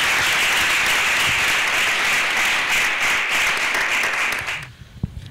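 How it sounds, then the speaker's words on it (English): Applause at a panel debate on women in Africa's media: a sustained, loud wash of many hands clapping for about four and a half seconds, then it stops abruptly and a faint bump follows in the quiet room. "Can we now please give her a round of applause?"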